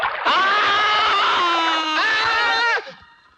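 In a bathroom scene of a Hindi movie, a man scalded by hot water gives a loud, sustained scream lasting about two and a half seconds that rises and wavers before cutting off.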